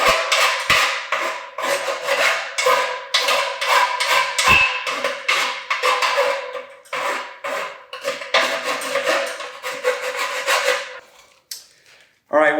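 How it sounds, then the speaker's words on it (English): Metal file worked over the freshly sawn feet of ladder levelers to remove burrs, in a fast run of close, bright rasping strokes that slows near the end. "Now, going to just file my feet right here."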